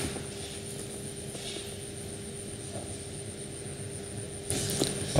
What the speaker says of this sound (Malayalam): ജെറ്റ് പോകുന്നു